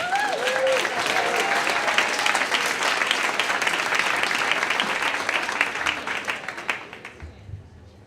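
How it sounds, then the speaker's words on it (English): Sustained audience applause for a storyteller at a Moth StorySlam, dense clapping with a few cheers and a brief voice at the start, then thinning and fading out near the end. "All right, big round of applause for Catherine."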